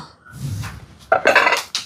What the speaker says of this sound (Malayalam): ഈ പാത്രങ്ങൾ എടുത്തു വെക്കാനുണ്ട്